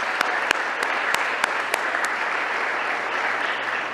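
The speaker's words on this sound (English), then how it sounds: "please give her a round of applause" A crowd applauds continuously, a dense wash of clapping with a few louder individual claps standing out near the front.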